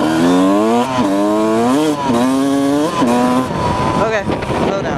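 A dirt bike engine on a trail ride revs up and down in a rising, falling whine, loud and close, with repeated throttle swells and a rougher patch near the end.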